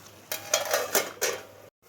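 A metal lid clatters onto a cooking pot of tomato chutney, several close clanks and scrapes as it settles, then a brief silence.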